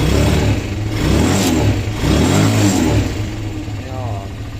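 A restored Motorstar classic motorcycle engine revs up and eases back in a couple of swells, running steadily and close by while people talk over it.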